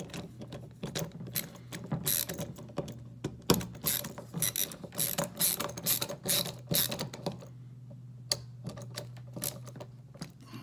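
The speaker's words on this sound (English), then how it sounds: "Screw the hand grips back together." Hand grips being screwed back onto a Ruger Police Service Six revolver, heard as close, rapid ratchety clicks and small metallic mechanism ticks in irregular bursts, easing into sparser clicks near the end, with no speech.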